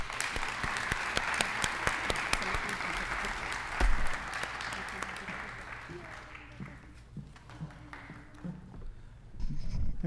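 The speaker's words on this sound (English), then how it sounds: "please help me with giving them a round of applause" Applause from the audience at a high school senior awards night, a steady wash of clapping that swells, then thins out and fades toward the end as a voice carries on faintly.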